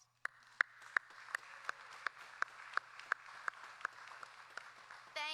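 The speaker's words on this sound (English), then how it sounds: "Let's give these folks a round of applause." Sparse, evenly spaced claps ring out at a pharmacy white coat ceremony, a steady rhythmic patter kept fairly faint and distant, swelling into a fuller burst at the very end.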